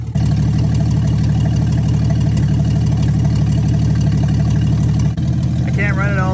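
A 1963 Plymouth Valiant slant six idles steadily, a loud, close, even rumble with a constant low throb that runs almost unbroken, briefly dipping once before a voice speaks over it near the end.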